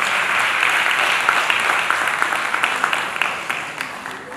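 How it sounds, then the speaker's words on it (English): Audience applause for a keynote speaker at the African Women in the Media 2018 conference, a loud sustained roomful of clapping that gradually tapers off. "Please do give her a round of applause."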